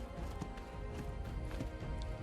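Horse hooves in the video game ARK clatter in a quick, steady clip-clop rhythm, close and fairly loud, as the animal moves at a brisk pace.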